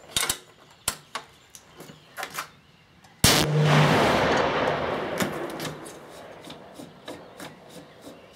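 A 338 Lapua Magnum rifle fitted with a factory Remington muzzle brake fires one loud, sharp shot with a long echoing decay, after several lighter clicks and handling knocks.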